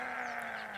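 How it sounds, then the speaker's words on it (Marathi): Goats bleating from a herd on a farm beside a sugarcane field, one sustained wavering bleat held close and loud with nobody talking. "किती बकऱ्या आहेत बाळा?"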